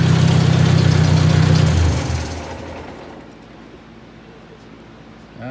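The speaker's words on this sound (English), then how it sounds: "Just sitting here idling." An engine idles with a loud, steady low rumble for about two seconds, then shuts off and the sound fades away, leaving quiet.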